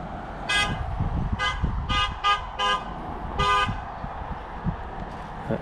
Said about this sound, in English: Honking noises when somebody leaving sees somebody at the gate